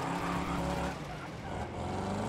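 Engine of a car in the racing video game Wreckfest 2, a steady droning roar held loud and close throughout with slight rises in pitch, no talking over it.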